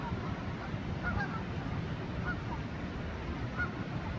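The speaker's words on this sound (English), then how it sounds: "Lots of Canadian geese coming around right now." Canada geese honk at Riverside State Park's Bowl & Pitcher, faint and distant, with a few brief calls rising over a steady roar of rushing river water.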